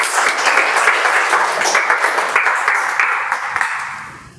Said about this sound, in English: with great round of applause, let us welcome our general evaluator Vinith.